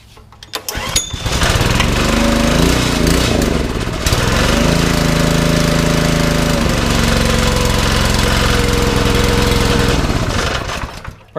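A Honda GX160 small engine with a repaired recoil starter is pull-started and catches, then runs at a loud, steady, rumbling idle close by for about nine seconds, with a brief change in pitch partway through.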